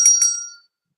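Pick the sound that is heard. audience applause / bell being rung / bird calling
bell being rung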